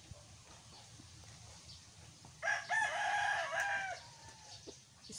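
Backyard chickens and a rooster, with a loud rooster crow rising midway over faint clucking and ambient farmyard sounds, moderately near.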